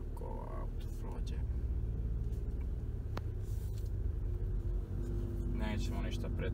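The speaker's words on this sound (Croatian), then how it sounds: "Samo dok ovo auto prođe." A car passes on a narrow road with a close, steady low rumble of engine and tyres, heard from inside a Skoda Superb, and a voice speaks over it now and then.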